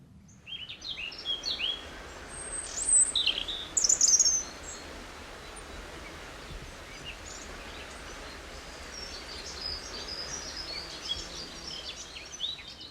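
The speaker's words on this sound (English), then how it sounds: "And hear a few owls calling." Several owls calling at night near a fishing lake on a private island, with high chirping calls in two louder bursts early on. Quieter scattered calls follow over a faint steady nighttime hush.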